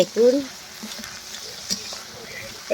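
Ground tomato hits hot oil for mutton masala on a clay stove, giving a close, steady sizzle and spatter with a sharp burst near the start. A voice speaks briefly over it.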